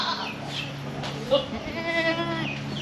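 Goats bleat on a Punjab goat farm in the Malwa region, several wavering calls close by over a steady farm background, with faint voices mixed in.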